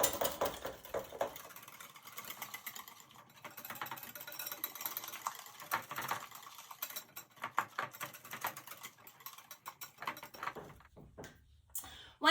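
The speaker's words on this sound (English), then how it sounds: "So I'm going to whisk this until it is lump-free." A whisk beats Dutch baby batter in a bowl, making rapid, fairly faint clicks and taps against the bowl in quick, uneven bursts that run almost nonstop.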